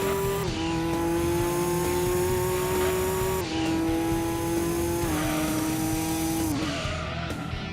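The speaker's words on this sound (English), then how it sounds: "This Pennzoil GTR has an amazing sound" A Pennzoil GTR race car in Gran Turismo 2 screams at high revs, its engine note dropping sharply at each of several gear shifts, loud and continuous throughout.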